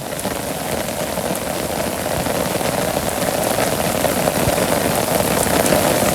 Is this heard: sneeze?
no